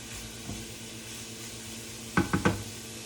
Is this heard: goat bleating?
no